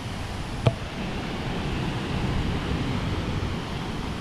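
Somphamit (Li Phi) waterfall on Don Khon, Laos, gives off a steady broadband roar of rushing water, even and continuous throughout, with a single sharp click near the start.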